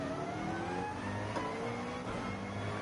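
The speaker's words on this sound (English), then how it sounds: "you just sit there revving your engine and it doesn't let you go" Car engine in Gran Turismo 7 revving steadily while held in the pit lane at Road Atlanta during a Manufacturer's Cup race, a continuous droning whine that stays level throughout with no talk.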